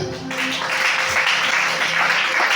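Congregation clapping and cheering together at a Sunday church service in Libreville, Gabon, a steady dense wash of applause filling the room for the whole stretch.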